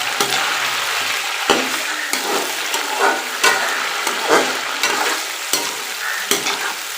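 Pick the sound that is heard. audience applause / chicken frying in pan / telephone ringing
chicken frying in pan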